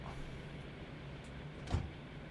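A train cab window opening in Train Sim World 2 gives a faint low motor hum and rattle, ending in a single short thump as it stops, with no talking.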